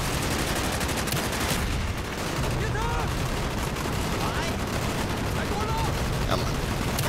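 Dense, sustained gunfire in Call of Duty: Black Ops: overlapping rapid shots and bursts fill the whole stretch at a steady, loud level, with faint game voices mixed in.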